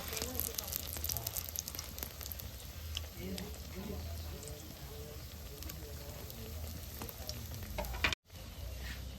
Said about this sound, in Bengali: তেলটা খুব একটা গরম করা যাবে না, হালকা গরমেই ভাজা লাগবে।